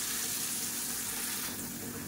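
Tomato and onion paste hits a hot pan, giving a loud, steady, close sizzle that continues without a break for the whole moment.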